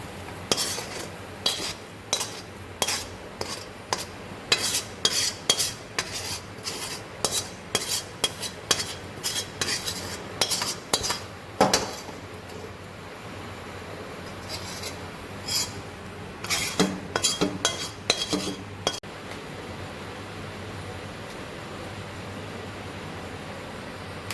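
A spoon or spatula scraping and tapping on a metal plate as coconut burfi mixture is spread and pressed flat, in repeated close clinks that pause and then resume against a quiet background.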